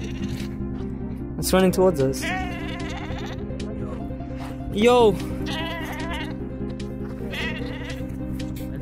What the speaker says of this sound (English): I see a wild sheep.